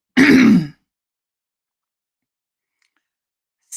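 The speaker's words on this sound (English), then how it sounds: "Sorry for clearing my throat." A person clears their throat once, a short loud rasping grunt close to the microphone, followed by silence and a brief faint sound at the very end.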